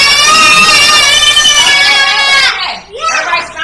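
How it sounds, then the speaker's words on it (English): Church congregation screams together in one sustained, loud, high-pitched burst of many voices that rings out for a couple of seconds and then breaks off into scattered voices and chatter. "Everybody scream."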